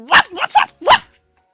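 A dog named Sprinkle in a video game barks four times in quick succession, loud and close, short yappy woofs followed by silence.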